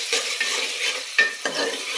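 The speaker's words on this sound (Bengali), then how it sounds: "এই যে দেখো 4-5টা তেজপাতা দিয়ে দিলাম।" Bay leaves, four or five of them, sizzling as they fry in hot oil in a cooking pot, a steady close crackling hiss broken by a few louder stirring scrapes.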